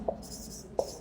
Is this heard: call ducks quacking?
no